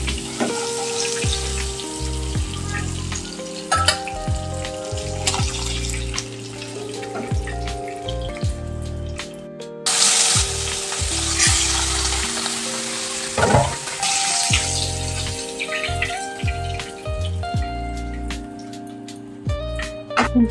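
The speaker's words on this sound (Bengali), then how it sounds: "আমার এপিট ওপিট 2 পিট করেই কাতলা মাছটা ভাজা হয়ে গেছে।" Pieces of katla fish fry in hot oil in a pan for a Bengali kalia, a loud, close, steady sizzle with spattering crackles and occasional clatter of a spatula, and no talk.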